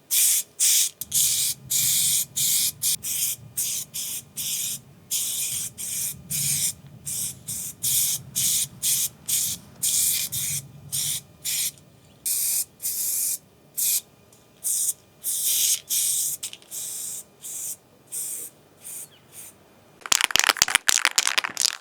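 Spray can laying primer onto a bicycle frame, with rapid short hissing bursts in a steady on-off rhythm, close and alone, ending in a denser flurry of quick sprays.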